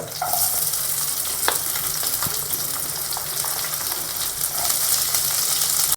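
Sliced onions and curry leaves fry in a pan for potato curry, a loud, close, steady sizzle with stirring scrapes and a few clicks, no voices.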